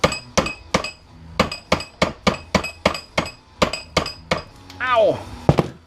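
A hammer smashing apart old fluorescent shop light fixtures for scrap: about a dozen sharp, loud metallic blows land in an uneven rhythm with glassy clinks, then a man cries out near the end.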